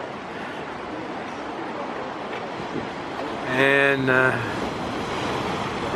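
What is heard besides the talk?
Atlantic waves breaking on rocky shore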